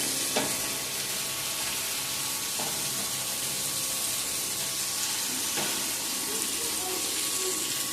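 Fish fries in a little oil on a tawa, a loud, dense, constant sizzle with occasional sharper spatters and crackles spaced a couple of seconds apart.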